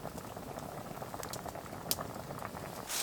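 Venison meatball stew simmers in a pot over a small Firebox stove outdoors, a steady soft bubbling and popping patter with a few sharper ticks, faint and close, no talking.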